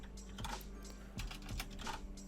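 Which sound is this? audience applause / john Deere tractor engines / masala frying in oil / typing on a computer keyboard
typing on a computer keyboard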